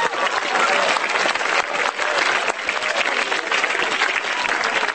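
A stand-up comedy audience applauds loudly, a dense, steady burst of clapping from a large crowd that continues for the whole stretch without talk.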